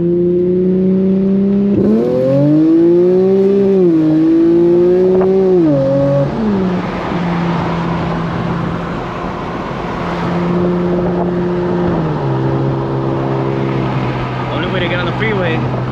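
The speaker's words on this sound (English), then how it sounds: "do a couple of pulls just so you guys can see the car moving" A tuned Infiniti Q50 accelerates hard at night, its engine note climbing loud and close through several rising pulls with shifts in between, then settling into a steady cruise drone with road roar.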